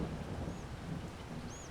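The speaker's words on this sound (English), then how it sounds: "I think it did start raining as soon as we got to the field though" Rain falls in Farming Simulator 22 with a low rumbling wash and faint steady patter, quiet and continuous, no talk.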